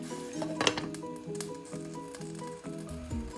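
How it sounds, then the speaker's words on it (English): A lid set on a pot of boiling water: a brief metallic clatter and clink over a steady bubbling, sizzling hiss, quiet and close. "I'm gonna go ahead and put the lid on"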